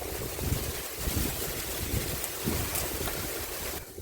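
Outdoor wind rushes steadily, a loud, continuous blustery roar with gusty swells across four seconds and no talking.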